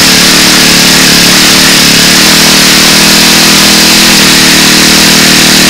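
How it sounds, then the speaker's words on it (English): Model airplane engine with a custom tuned pipe screaming at high RPM, a loud, steady, unbroken buzzing whine held at full throttle throughout. "What's significant is just how many RPM this engine is pulling."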